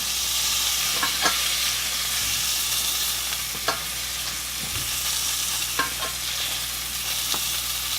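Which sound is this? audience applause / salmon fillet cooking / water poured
salmon fillet cooking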